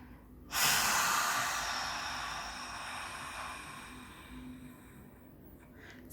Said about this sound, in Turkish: Burundan derin nefes alalım. Ve nefesimizi verirken dilimizi sonuna kadar dışarıya çıkaralım.